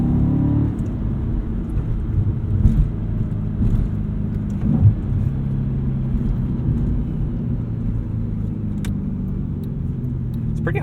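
A 2007 Audi RS4 engine rumbles steadily from inside the cabin during heel-toe downshifting, a loud low drone with small swells and faint clicks, with no talk over it.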